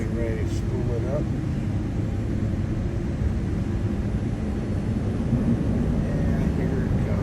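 Airliner engines spooling up on the runway for takeoff, a steady broad roar heard from inside the cabin, with a voice speaking over it.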